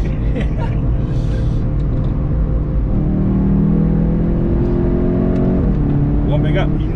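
Inside a Golf GTI TCR race car warming up on the Nordschleife, the engine drones loudly and steadily, with its pitch climbing and dropping at gear shifts while people talk over it.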